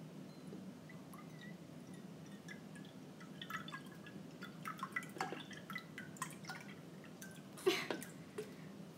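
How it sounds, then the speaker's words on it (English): Orange juice pours and drips softly into a container nearby, faint and quiet, with a few small splashes and clicks and no talking. "I have my orange juice. So I'm going to pour in 2/3 of a cup"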